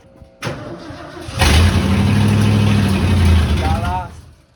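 A 1971 Ford F-350 truck's engine cranks, catches and settles into a loud, rough, rumbling run close by for a few seconds before easing off, with a voice briefly heard.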